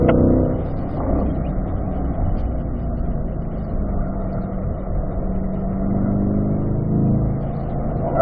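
Car engine pulling hard through the gears on a race track during a track session, a steady loud in-cabin drone with a shift around the one-second mark and revs building again toward the end.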